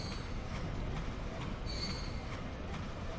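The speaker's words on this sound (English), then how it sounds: "That rhythmic engine running." Steam locomotive running on an early tramway line in a Transport Fever 2 rail scene set around 1810, giving a steady, dense rolling rumble with faint high wheel squeal, continuous and alone at a moderate level.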